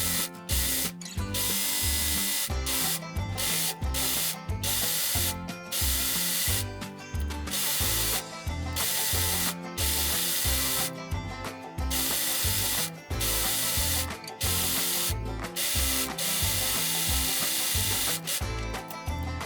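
An overlocker serges the edges of skirt layers in loud, close bursts of rapid mechanical stitching, starting and stopping in short runs with brief pauses between.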